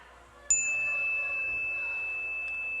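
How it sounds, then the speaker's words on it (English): A single meditation bell is struck once, giving a clear, bright ring that lingers and slowly fades over a quiet background, with a soft second touch near the end. "as the sound of this bell dissipates and fades into the cosmos"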